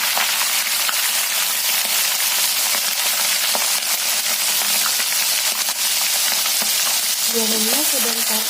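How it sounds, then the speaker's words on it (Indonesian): Small anchovies fry in hot oil with a steady, crackling sizzle throughout, and a brief scrape of stirring near the end. "Selanjutnya kita akan goreng teri."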